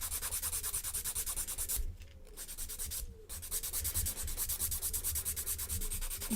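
Dip powder manicure nails being filed and smoothed, a fast, even rasping of a file stroking back and forth, close and steady, with two short pauses partway through.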